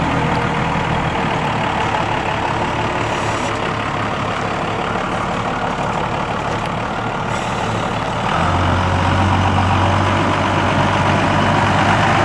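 Second-generation Dodge 2500 pickup with a Cummins diesel engine idling, a steady loud low clatter and rumble up close that deepens and grows slightly louder partway through, with no talk.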